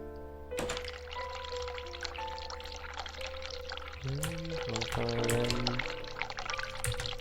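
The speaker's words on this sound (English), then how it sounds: "Run hot water tap." A hot water tap runs in The Cat Lady video game, giving a steady pouring splash of water into a sink. A low tonal game music bed plays underneath, and a few chiming notes rise in the middle.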